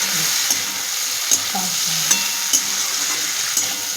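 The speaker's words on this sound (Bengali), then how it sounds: "আলু পেঁয়াজ বড়ি সব একসাথে পুরো সবাইকে জড়িয়ে জড়িয়ে ধরছে, কোনভাবে আমি নাড়িয়ে নিচ্ছি" Potatoes, onions and lentil dumplings (bori) are stirred in a sizzling pan, a constant close frying hiss broken by regular spatula scrapes and taps about once every second.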